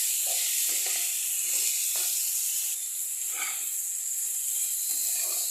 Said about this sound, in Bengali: এখন এটার মধ্যে রসুন থেতো আর বাটা একসঙ্গে করে রেখেছি, এটা দিয়ে দেবো, দিয়ে আবার 2 মিনিট একসাথে কষাতে হবে।